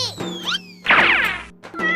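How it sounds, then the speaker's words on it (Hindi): A cat in a desi comedy sketch gives a couple of short, rising meows near the mic, mixed with a crash and brief thuds. "देख मेरी बिल्ली"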